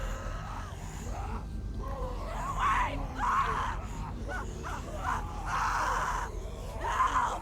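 A girl screams repeatedly in The Walking Dead video game, several strained, distant-sounding cries rising and falling over a few seconds against quiet ambience.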